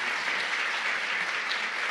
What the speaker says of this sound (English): Let's offer them a round of applause as we conclude.